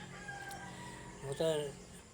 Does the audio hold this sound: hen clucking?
yes